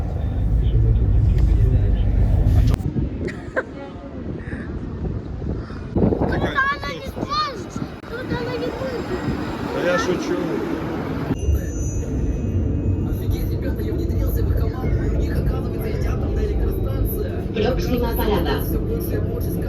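Engine rumble and road noise from inside a bus stuck in heavy traffic caused by an accident, a steady loud drone with wind buffeting the microphone, while a person talks over it throughout.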